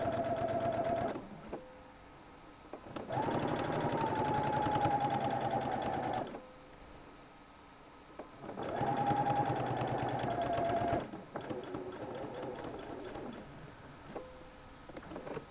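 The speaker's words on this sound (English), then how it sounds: "I'm using the bi-level foot to get an even top stitch around my collar stand" A sewing machine with a bi-level foot topstitches a shirt collar stand in two steady bursts of rapid stitching, each lasting several seconds, with quiet pauses and faint handling sounds between runs.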